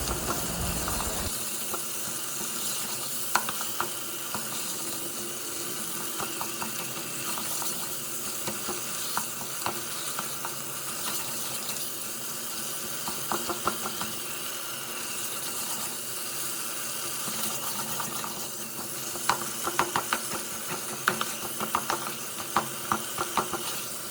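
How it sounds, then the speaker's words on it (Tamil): Tomatoes sizzle steadily in a hot pan, frying and cooking down to a paste while a spoon stirs and scrapes now and then, the sizzle continuous and fairly loud throughout with no talking. "ஃபுல்லாக பேஸ்ட் ஆகிற வரைக்கும் நல்லா கலரி விட்டுக்கலாம்."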